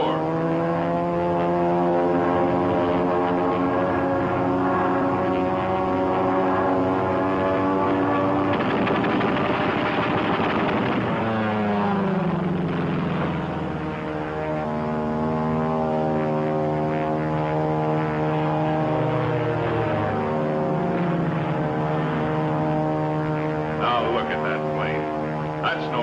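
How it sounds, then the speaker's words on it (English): A P-40 fighter plane passes overhead with a loud, droning propeller engine whose pitch sweeps down as it goes by, then it continues to hum, with voices speaking over it. "That's a P-40."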